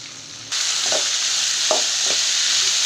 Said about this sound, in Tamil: புளிலாம் போட்டு கலரி விட்டாச்சு